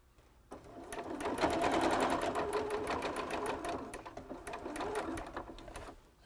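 A sewing machine stitching fabric runs in a steady rapid mechanical rattle for several seconds after starting, close and moderately quiet, with a brief stop near the end and no speech.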